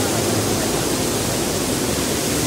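Rushing water pours down Bhivtas waterfall near Surgana, Nashik, a dense, steady roar filling the whole clip at close range with no pauses or voices.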